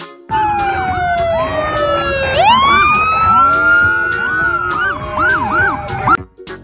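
A toy police motorcycle siren wails loudly, rising and falling in sweeping electronic tones over a steady buzzing hum, with no talking.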